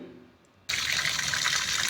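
Water suddenly bursts from a household tap as it is opened, then runs steadily in a strong, hissing stream. The tap is part of an automatic water level controller setup with a motor-fed supply. There is no talking.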